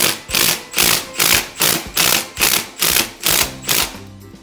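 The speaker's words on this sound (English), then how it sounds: "So now with an impact gun or a wrench, you're going to install your anchor." An impact gun driving a Tapcon concrete anchor hammers in rapid repeated bursts, about nine evenly spaced rattling impacts in a steady rhythm, loud and close, with no talking.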